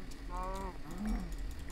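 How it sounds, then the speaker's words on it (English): Cows in Minecraft give two short, low moos close by, heard over a steady background rumble with no one talking. "Whole bunch of cows, too."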